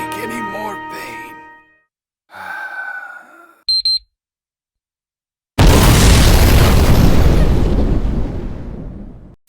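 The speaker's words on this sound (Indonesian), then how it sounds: "Mereka mendengar ledakan itu," A bomb blast in an anime scene: a sudden loud, broadband explosion that bursts in and rumbles on for several seconds, following earlier speech and a brief electronic beeping.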